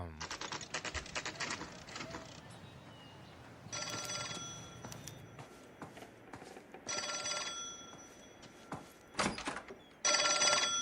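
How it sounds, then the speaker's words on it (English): An old-fashioned telephone bell in L.A. Noire rings in several loud, rattling bursts separated by short pauses, with a low murmur in the gaps between rings. "That sound you're hearing is what was the sound that would a telephone make when it was ringing."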